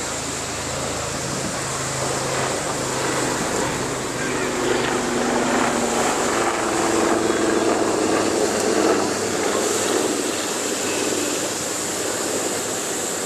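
A small 249-gram drone flies at an airshow with a thin, constant high-pitched whine. It sits over a steady background rumble and outdoor noise throughout.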